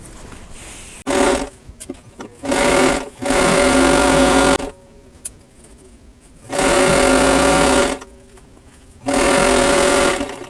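A sewing machine stitches the seams of a pillow cover in four steady motor bursts of a second or two each, close and loud, separated by brief quiet pauses and small handling clicks.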